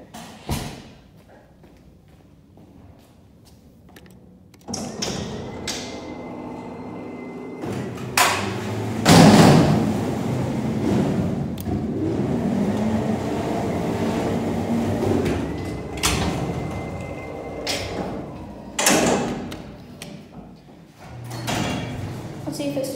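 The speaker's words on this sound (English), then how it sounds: "That interlock is so loud." Schindler hydraulic freight elevator door interlock at a shopping mall sounds as repeated loud clacks and thumps over a rumbling door slide, with quieter stretches in between.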